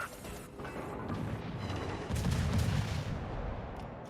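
The Jervis destroyer's 120mm guns fire in the World of Warships video game, a faint muffled barrage of overlapping booms and rumbling blasts rolling on steadily, louder near the middle.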